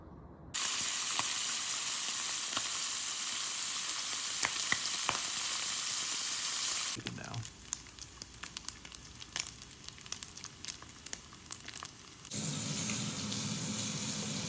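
Steady, loud sizzling of bacon frying in a pan, close up, with a brief shift midway to quieter crackling and clatter before the strong sizzle returns.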